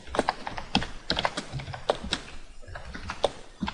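Close keystrokes on a computer keyboard come in an irregular run of crisp taps while C# code is typed, with brief pauses between clusters.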